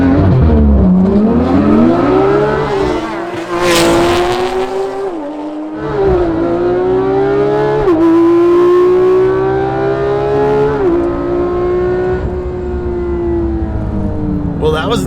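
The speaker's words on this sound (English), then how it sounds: "we're gonna do a couple drag races here. I got the GT3RS lined up against the Supra." A Porsche GT3RS and an 800hp Toyota Supra drag race side by side, loud engines revving and climbing through repeated gear shifts with brief tire squeal, the roar sustained and close throughout.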